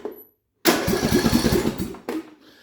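A swapped-in engine on a Poulan Pro riding mower cranks and fires, a loud rough chugging burst after a short silence, then a second brief burst before it dies away, heard close up.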